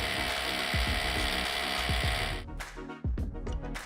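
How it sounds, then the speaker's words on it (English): Ratchet clicking repeatedly while tightening masonry bolts through a steel bracket into a concrete basin wall, a close, steady mechanical rattle of pawl clicks that thins out into a few separate strokes near the end. "using the ratchet, secure the masonry bolts through the bracket into the basin wall and tighten to secure"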